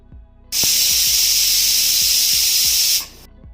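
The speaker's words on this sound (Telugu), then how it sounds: "విజిల్స్ వచ్చే వరకు కుక్ చేసుకోవాలి" A pressure cooker cooking rice with carrot and cluster beans releases a loud, sustained hiss of escaping steam lasting about two and a half seconds, with a faint rhythmic rattling beneath.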